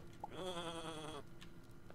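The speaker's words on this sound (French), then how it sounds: "c'est une vache qui belle" A cow in the video game Starbound lets out a single bleating call, a wavering, buzzy cry of about one second, close and clear over faint background ambience.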